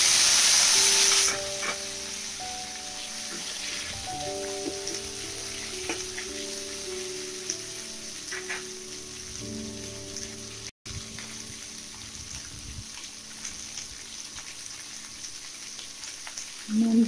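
Pieces of raw mango drop into hot oil spiced with crackling panch phoron and fry with a steady, close sizzle. Light stirring scrapes sound now and then, and a brief louder burst comes at the very end.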